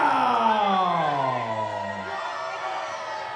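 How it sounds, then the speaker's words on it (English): A wrestling crowd at an OVW event lets out a long, sustained boo that slides downward in pitch, loud and blended from many voices. "I think this crowd is saying boo, Stephen."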